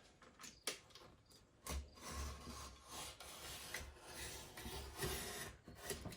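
Peel-and-stick backsplash tile being cut by hand in a kitchen remodel, heard as irregular scraping and rasping strokes at close range, with a few sharper snaps, no talking.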